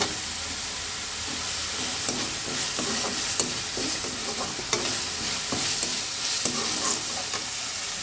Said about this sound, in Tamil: இதுவும் வதங்கட்டும் கூடவே ரெண்டு பச்சை மிளகா சேர்த்துக்கலாம்